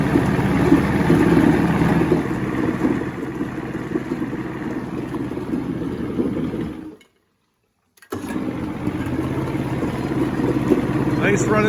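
A 1970 85 hp Evinrude outboard boat motor runs steadily with a low rumbling drone, cuts out for about a second, then resumes at the same level.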